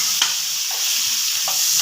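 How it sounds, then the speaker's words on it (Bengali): Onion petals and cut capsicum fry briefly in butter in a pan, giving a continuous close sizzle with a few light spatula stirs. "একটু যা ফ্রাই করে দেব"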